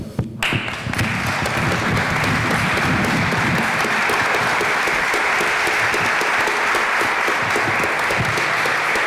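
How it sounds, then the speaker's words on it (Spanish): An audience at a local history conference breaks into dense, sustained applause that starts suddenly and holds steady for several seconds, filling the hall. "Para todos vosotros, este aplauso."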